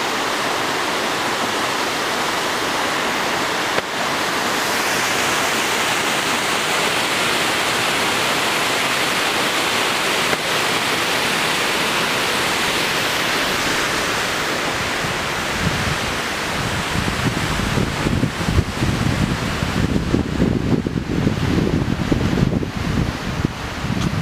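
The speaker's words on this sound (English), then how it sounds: "we've actually got to the mouth of the river" Water rushes loudly at a river mouth in a broad, continuous roar, with wind buffeting the microphone and growing stronger toward the end.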